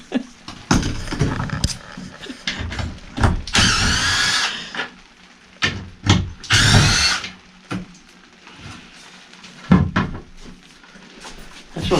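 A power drill reams out a rivet hole in a shuttle bus under conversion, with short bursts of high whining drilling between clanks and metallic knocks, close and loud, separated by quiet gaps.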